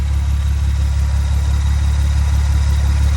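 A car idles with a loud, deep exhaust rumble, a constant low throb that holds steady throughout.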